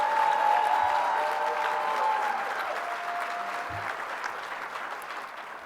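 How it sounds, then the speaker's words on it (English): An audience at a community diversity awards ceremony in Tempe applauds steadily for several seconds, a dense wash of clapping that slowly thins and fades. "Give them all a big round of applause."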